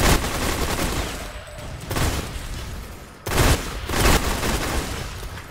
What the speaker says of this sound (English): Oh, fucking nades